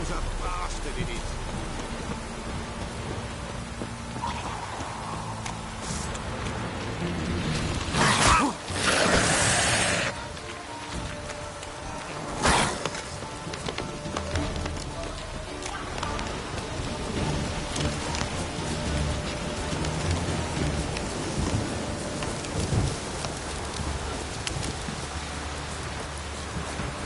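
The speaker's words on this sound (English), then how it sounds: "This downpour's a bastard," Steady heavy rain in a PS4 video game, a constant hiss of downpour with a couple of brief louder bursts, and a voice talking under it at times.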